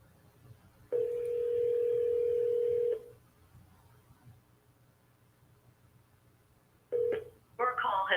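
A telephone call produces a steady two-second tone, then quiet line hiss, followed by short dialing and ringing tone bursts near the end.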